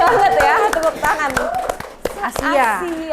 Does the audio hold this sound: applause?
yes